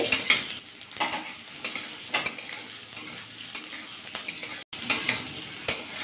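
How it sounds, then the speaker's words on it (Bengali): Potatoes stirred and lightly fried in a wok for a Bengali okra dish, with a steady oil sizzle, repeated scraping and clinks of the spatula against the pan, and one brief dropout. "নাড়াচাড়া করে আলুটা ভাজা করে নেবো হালকা করে।"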